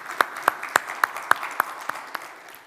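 Sparse, evenly spaced hand claps from a small audience after a conference talk, about nine sharp claps in a steady rhythm over quiet room noise.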